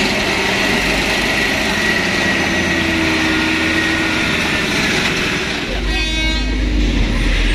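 An orange Fuso truck revs hard as it pushes through a deep, muddy road, a loud, close engine roar that rises in a sharp burst near the end, with people talking over it.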